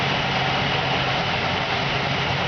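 1949 Ford F1 pickup with an all-original engine on a 6-volt electrical system, fresh plugs, wires, cap and rotor, idling in a steady, even, close rumble with no talk over it.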